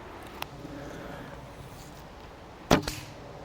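During backyard archery with natural-feather arrows, one arrow lands with a single sharp, loud crack, preceded by a faint tick earlier, against quiet outdoor background noise.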